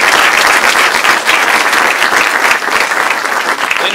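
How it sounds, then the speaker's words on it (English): Sustained audience applause at a student fund managers event at a university finance center, loud continuous clapping close by with no talk over it. "So let's get a round of applause."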